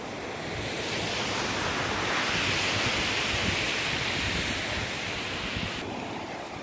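Steady roar of sea waves at Addarpet beach during a New Year's Eve outing, continuous broadband surf with wind rushing across the microphone, fairly loud and unbroken with no voices.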